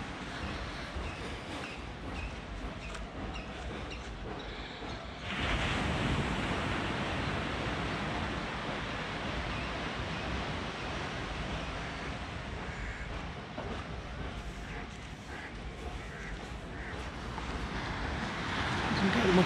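Morning surf on Palolem Beach, a constant broad wash of waves breaking at a distance, with wind buffeting the microphone throughout and growing slightly louder near the end.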